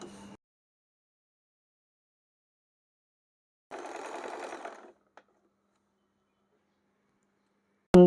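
A sewing machine stitches a soft cotton dress in one short, close whirring run after a tiny burst at the start, surrounded by long stretches of near silence.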